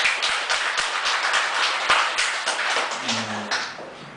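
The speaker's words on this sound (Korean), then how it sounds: "박수" Applause during a Buddhist Sunday temple service, many hands clapping in a steady, dense patter with a few sharper claps, fairly close and continuous through the moment.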